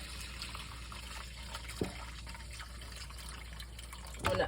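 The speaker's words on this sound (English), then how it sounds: "drain the whey off the curds" Whey draining off feta cheese curds into a colander in a kitchen gives a steady, soft trickle of liquid, with a short splash near the middle and a louder pour of water at the end. Nobody speaks.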